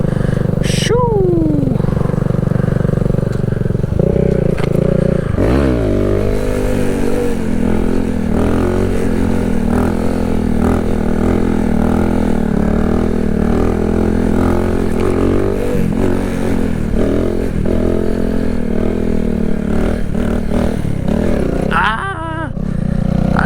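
A Kawasaki Z125 motorcycle being ridden, its engine loud and close throughout, rising and falling through revs and gear changes, with a brief spoken word near the start.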